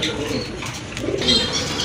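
Fancy pigeons kept for sale coo softly nearby in short, low, throaty phrases against a faint background murmur.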